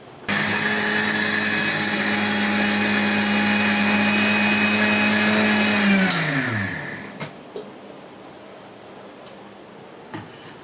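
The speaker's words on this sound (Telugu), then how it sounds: "ఇప్పుడు మిక్సీ పడదాము" An electric mixer grinder whirs at a steady, loud pitch while grinding roasted dried red chillies and spices, then winds down with a falling whine and stops, leaving a few faint knocks.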